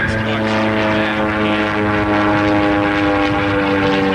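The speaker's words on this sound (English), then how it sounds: "Stopping that airplane, ladies and gentlemen, and snapping it on top of a loop." Propeller-driven aerobatic airplane at a 1989 Fargo air show, climbing straight up and snapping over the top of a loop; a steady, loud engine drone with strong harmonic tones runs throughout while an announcer talks over it.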